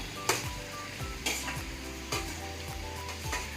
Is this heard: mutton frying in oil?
yes